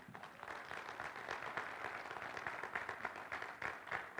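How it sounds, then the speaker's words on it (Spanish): A church congregation applauding during a Spanish-language sermon, a continuous crackling wash of many hands clapping at a moderate, somewhat distant level for about four seconds. "dele un aplauso al Señor."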